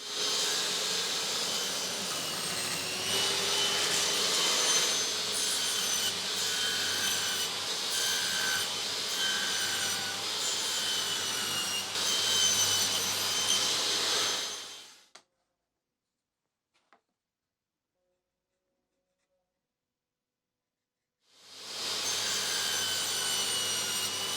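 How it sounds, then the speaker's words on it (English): A table saw grinds steadily through wood for about fifteen seconds, then cuts to silence before the loud whirring cutting resumes near the end. "take this piece to the table saw and then cut it 90"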